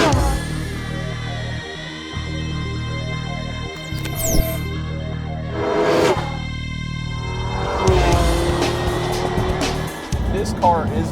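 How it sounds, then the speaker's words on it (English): Porsche 918 Spyder hybrid supercar with a V8 revving and accelerating, the engine note rising in bursts and swelling loud, with voices talking over it at times. "so it still sounds like a supercar"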